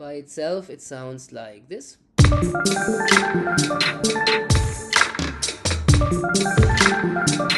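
After a brief spoken line, the Falling Bells synth preset from the Cheap Keys retro VST rings out in bright, bell-like notes, playing a loud melodic pattern with chiming attacks and sustained tones.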